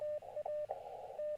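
RTTY radioteletype data signal received on an amateur radio during a low-power CW park activation, a steady warbling two-tone burst that shifts back and forth, faint and alone with no talk.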